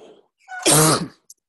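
A single short, sharp cough, close and fairly loud, with a brief breath just before it.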